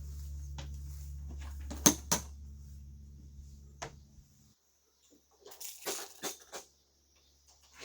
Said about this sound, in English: I'm going to unbuckle these two buckles on both front corners.